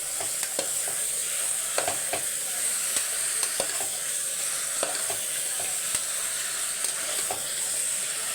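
Bone-in chicken pieces are stirred in a hot pan, giving a steady moderate sizzle with repeated scraping and clinking of the spoon against the pan throughout.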